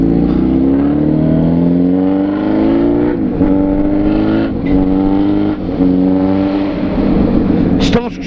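A Suzuki B-King motorcycle with an aftermarket exhaust revs loud and close in city traffic, its engine note climbing and dropping in repeated throttle pulls, with a voice heard briefly among the roar.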